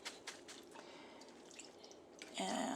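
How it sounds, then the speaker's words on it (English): Water trickles and drips over sauerkraut being rinsed for piroshki filling, a run of soft splashes ending in a brief louder gush, close and alone. "I prefer to just give it a little bit of a rinse so it's not quite so vinegary."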